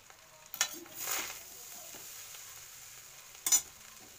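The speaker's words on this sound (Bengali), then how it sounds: "তো এইভাবে আমি কিছুক্ষণ একটু নাড়িয়ে নেব।" A spoon stirring rice with ghee in a pan, soft scraping with faint sizzling and a couple of brief clinks, quiet and close.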